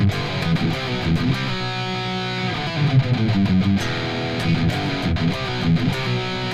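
Heavily distorted electric guitar playing the chorus riff of a song, a dense, continuous chugging of power chords with shifting notes, loud and unaccompanied.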